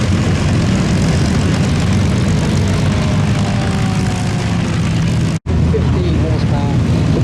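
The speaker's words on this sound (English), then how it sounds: "Gamebird empty weight is only 635 kilograms, so incredibly light aeroplane, all composites." A Gamebird GB1, a very light all-composite propeller aircraft, drones steadily and loudly overhead at an airshow, its engine noise continuous apart from a brief dropout near the end, with voices faintly underneath.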